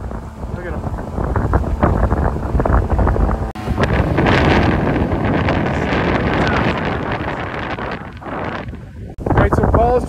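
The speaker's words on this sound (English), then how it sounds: "Definitely windy today." Strong wind blasts across a beach at Delray on a kite day, roaring and buffeting the microphone loudly and continuously. It drops briefly twice before surging back.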